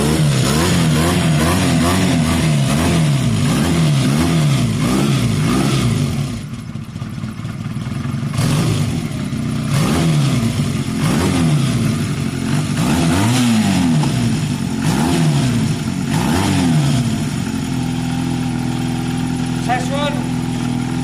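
A Honda CB250 Nighthawk bobber, freshly fitted with swapped carburetors, revs repeatedly in rising and falling bursts, loud and close, its throttle blips cycling over a steady running engine while people talk nearby.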